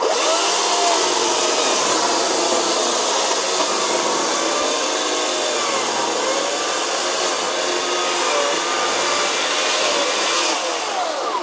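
A Husqvarna chainsaw fitted with a new but already dull chain runs steadily and loudly through a cut, a continuous high-pitched motor whine lasting throughout with no voices.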